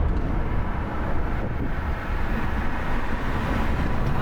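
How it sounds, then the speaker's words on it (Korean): Loud, broad rushing wind roars through a lowered car window on a 2026 Renault Grand Koleos hybrid cruising at 80 km/h, steady and dense throughout with no voices. "동일하게 시속 80km에서 윈도우도 내려보도록 해보겠습니다"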